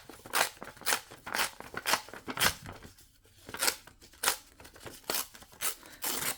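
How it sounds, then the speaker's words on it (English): Paper pages are torn for junk-journal signatures: a quick run of sharp, rhythmic ripping bursts, close and crisp, each separated by short pauses. "I think I'll tear it some more."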